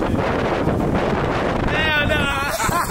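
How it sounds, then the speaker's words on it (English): Wind buffets a microphone outdoors on a cold, windy day, giving a loud, continuous rumbling roar throughout with no talking. "It's windy and cold as shit, bro."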